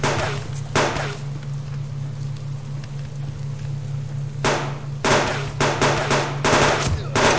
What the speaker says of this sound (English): How am I missing all these shots?